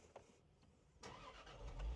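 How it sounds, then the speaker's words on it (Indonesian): Range Rover Sport engine starting: a short cranking burst, then the engine catches and settles into a steady, fairly loud idle with a slight rev swell near the end. "Mesinnya merdu."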